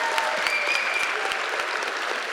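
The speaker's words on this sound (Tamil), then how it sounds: "இன்னும் பலமாகவே கைத்தட்டலாம்" An audience applauds a poet after her reading at a Tamil gathering, with dense, even clapping that carries on steadily for the whole short stretch.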